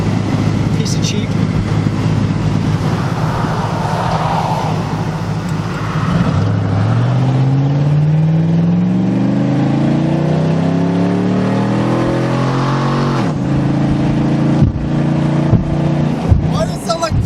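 Hummer H2 with its muffler deleted, the engine droning loudly and then climbing in pitch as it revs and accelerates, followed by sharp shift-like pops near the end.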